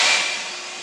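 A plane approaches in an airport management video game, a loud broad jet rush that gradually fades as it passes, with no talking.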